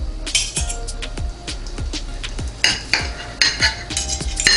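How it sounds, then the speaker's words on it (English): A knife cuts through a cooked medium-well ribeye steak on a board, giving a run of close, crisp scraping strokes and light clinks of metal on the plate or board, spaced and irregular, and no one speaks. "I'm going to go ahead and just take a slice off of this and just cut it for some taste testing."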